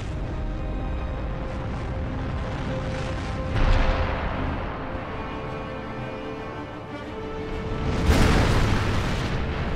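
Deep booming explosions from a planetarium show at the Ali Kuşçu Astronomy Center depicting planets colliding in the early solar system, a continuous rumbling roar that swells into two louder blasts, around four and eight seconds.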